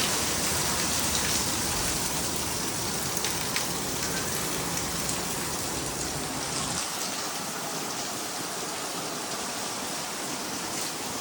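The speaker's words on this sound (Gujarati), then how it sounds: "મસ્તીનો વરસાદ આવે છે" Heavy rain pours steadily, a dense continuous hiss of drops hitting surfaces, loud and close throughout with no voices.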